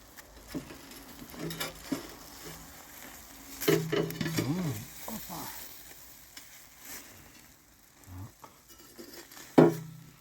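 Mackerel on a barbecue grill sizzles softly while being flipped over, with a burst of crackling frying noise and clinks of a utensil against metal in the middle, then quieter sizzling and a sharp tap near the end.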